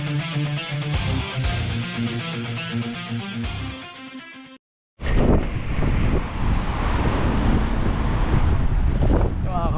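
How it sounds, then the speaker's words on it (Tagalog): Music plays, cuts out briefly, then strong, cold afternoon wind in New Zealand roars and buffets the microphone in a loud, continuous rush. "lakas ang hangin sobrang lamig dito"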